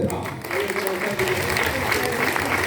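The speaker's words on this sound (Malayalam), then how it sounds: "കയ്യടിച്ചൂടെ?" A stage audience at a communication skills game session claps, a steady dense patter of hands lasting throughout, with voices mixed in under it.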